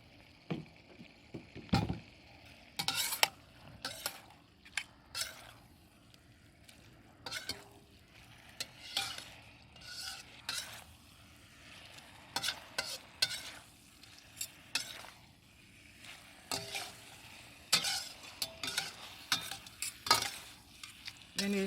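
Shrimp and rice noodles stir-fried in XO sauce crackle with a steady sizzle, broken by repeated sharp scrapes and clacks of a spatula against the pan at an irregular rhythm, close by and without talk.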